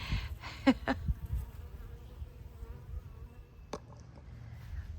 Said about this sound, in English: There are so many bees out, you guys.